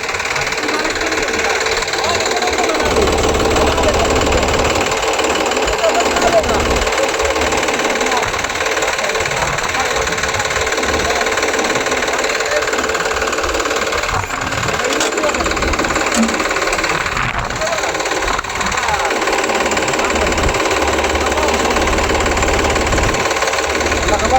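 A tractor engine runs steadily at a loud, close idle through the whole stretch, a rough low knocking drone with voices talking over it at times.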